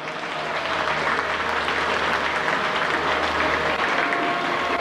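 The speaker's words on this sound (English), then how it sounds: "Could we all give him a big round of applause?" An audience at Midwest Old Threshers in Mount Pleasant, Iowa, breaks into steady, sustained clapping that fills the whole stretch, dense and loud with no voices over it.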